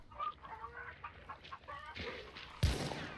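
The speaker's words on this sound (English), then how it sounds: "Hopefully these chickens don't rat me out, because they are making quite a little bit of noise" Chickens cluck repeatedly in the Hunt: Showdown video game, a busy flock of short calls nearby, ending with a sudden loud burst of noise.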